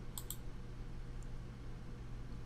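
Two quick computer mouse clicks close together, then a fainter single click, over a steady low hum with no talking.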